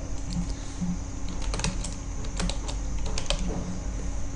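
A password is typed on a computer keyboard, a run of light, irregular key clicks at close range over a faint background hum, with no voices.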